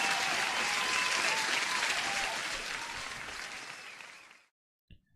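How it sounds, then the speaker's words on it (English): Applause on a live day-trading stream, a full crowd-like clapping sound at steady volume that tapers off and cuts out abruptly, followed by a brief burst after a pause. "let me give you an applause"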